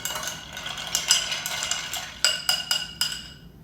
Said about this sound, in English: And then we give this a good stir.